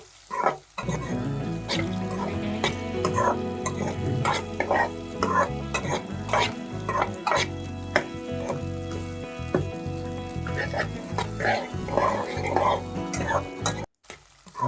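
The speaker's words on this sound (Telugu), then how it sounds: "అలా కలుపుకున్న తర్వాత మళ్ళీ లో ఫ్లేమ్లో 2 నిమిషాలు ఉడికించాలి." Egg fried rice being stirred and cooked in a pan over a low flame, with steady sizzling frying under repeated scraping stirs throughout, close and fairly loud, no talking.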